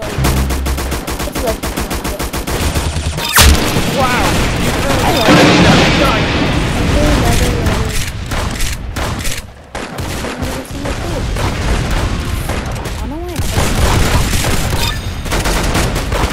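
Rapid bursts of gunfire and explosions from the Roblox Arsenal video game crackle densely throughout, with a player talking over the shooting.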